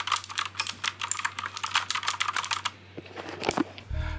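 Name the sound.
typing on a Keychron K6 keyboard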